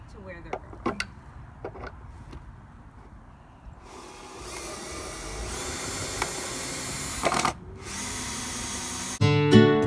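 A power drill driving screws into the corners of a wooden raised garden bed, a few short bursts at first, then a long steady whir, with a brief louder burst at the end.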